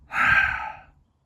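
A single long, audible breath pushed out through the mouth, close and breathy, rising quickly and fading away over about a second.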